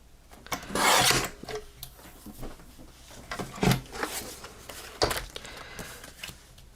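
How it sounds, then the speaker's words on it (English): Rasping, scraping strokes as a purple craft mat is trimmed along its side, in several uneven bursts with short pauses, close and fairly loud, with no talking. "I do need to trim a little bit off the side of this purple mat."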